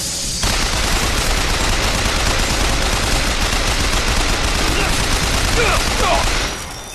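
Rapid gunfire in the video game BioShock Infinite, a loud, dense burst of automatic shots that keeps going for several seconds before easing off at the end.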